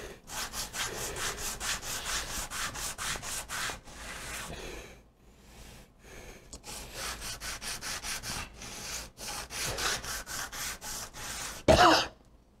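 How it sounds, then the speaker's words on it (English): Steady rhythmic rasping strokes of sandpaper hand sanding wood on a welding table, repeated back and forth close by, with a brief pause midway and a sharp knock near the end. "time for some hand sanding. Using some sandpaper on the welding table."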